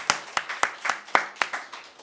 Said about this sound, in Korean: 아멘. 박수.